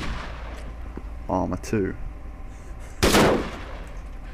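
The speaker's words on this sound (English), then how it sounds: "it has the same gunshots and sounds and everything that you'd hear from" Gunfire in the military video game Arma 3 running Arma 2 content: a couple of short, sharp in-game shots and a louder burst near the end, mixed with speech at a moderate level.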